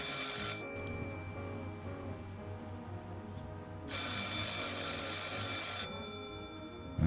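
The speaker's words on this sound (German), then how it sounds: "Ich sollte den Hörer abnehmen, aber schweigen." Telephone ringing in the video game Martha Is Dead, a steady electronic bell ring that sounds in two long bursts separated by a brief pause, fairly quiet against a low background hum.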